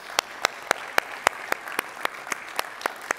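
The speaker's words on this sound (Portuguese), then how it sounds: "eu não posso desde já deixar de pedir uma salva de palmas para estes 5 colegas" A few people clap slowly and sparsely for five colleagues at an alumni presentation event, about a dozen sharp, evenly spaced claps in a quiet room with no other sound.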